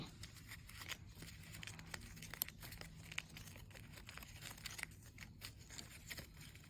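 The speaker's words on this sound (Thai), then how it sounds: "ตัดเศษริบบิ้นออกนะคะ" Scissors snip away ribbon scraps while making folded-ribbon coin favors for a Thai merit-making ceremony, faint close crinkling and small cuts amid quiet handling of the ribbon.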